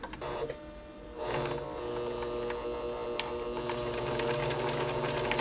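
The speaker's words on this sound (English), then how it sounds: "And just sew right down the middle, kind of straightening out the bunches as you go." A sewing machine stitches ribbon onto a cloth burp cloth, a steady low mechanical hum and whir that starts after a brief quiet moment and runs evenly, fairly soft, with no talk.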